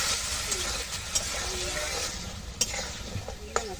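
Potatoes with turmeric and chilli powder sautéing in a pan after a splash of hot water, a steady sizzle punctuated by a few sharp utensil scrapes and taps.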